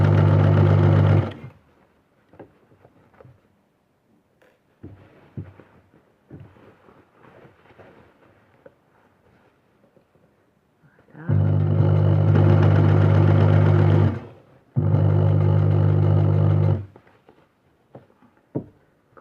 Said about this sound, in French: il reste à coudre la fermeture jusqu'en bas